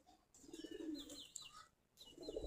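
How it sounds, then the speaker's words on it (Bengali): Desi Giribaj pigeons from a flock of about forty pairs gathering for food coo softly in short, faint bursts, with a few thin chirps mixed in and brief pauses between calls. "আমাদের প্রায় 40 থেকে 45 জোড়া এখন কবুতর আছে, সবগুলা দেশি গিরিবাজ কবুতর।"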